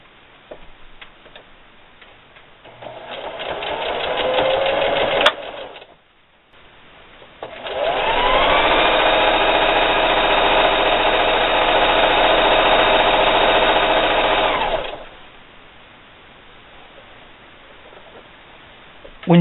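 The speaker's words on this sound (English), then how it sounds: "I'm going to go ahead and sew this seam all the way down the row, backstitching at the beginning and the end." Sewing machine stitching a quilt seam down a row, with backstitching at the start and end: a short run of rapid ticking stitches, a pause, then a longer steady loud mechanical whir lasting several seconds before stopping.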